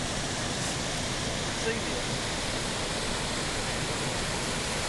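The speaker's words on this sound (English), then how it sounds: "See the water, how it's flowing freely." Water flows freely in a stream as a steady, dense broadband rush that never lets up, loud and close, with a voice speaking briefly over it.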